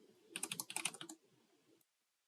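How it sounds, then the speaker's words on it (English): Quick clicking keystrokes on a computer keyboard while entering commands in a code editor's terminal, a dense burst of close taps lasting about a second, then tapering into faint ticks and silence. "here I can type all commands I would do in the regular command line"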